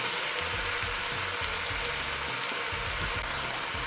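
Beef sizzles and fries steadily in a pot for a quick broth, a constant close hiss with faint bubbling and crackle underneath.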